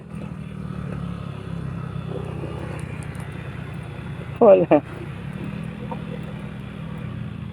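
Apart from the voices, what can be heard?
motorcycle riding on bumpy road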